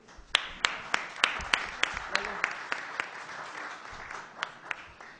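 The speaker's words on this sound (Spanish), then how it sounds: "pido un fuerte aplauso." A small crowd at a public forum in a legislative assembly hall claps in scattered, fairly sparse applause that gradually thins out, with a voice murmuring underneath.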